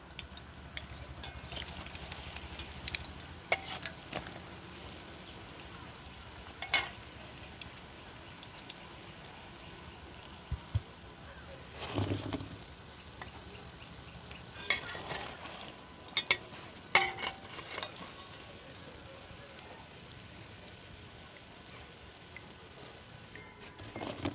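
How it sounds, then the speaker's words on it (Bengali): Balushahi sweets dropped into sugar syrup reheating on a stove: a quiet, steady bubbling simmer with scattered soft clinks and stirring scrapes, no voices. "আমি উনুনের মধ্যে আবারও বসিয়ে নিচ্ছি আর সরাসরি এবার মিষ্টিগুলোকে তুলে আমি এই চিনির শিরার মধ্যে কিন্তু দিয়ে দেবো"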